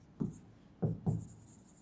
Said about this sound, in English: So I am writing it as